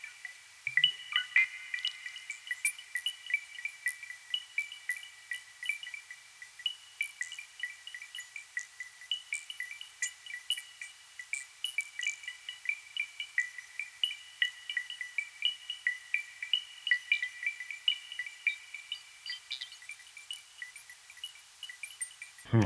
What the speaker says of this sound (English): I'm going to change the effect from delay to phone to make the notes atonal and also more of a texture